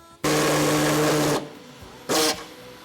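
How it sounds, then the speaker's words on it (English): An air hacksaw cuts out a Nissan Patrol's airbox, giving a loud, close buzzing burst of about a second, a pause, then a second shorter burst, with no talking. "probably gonna cut it with an air hacksaw"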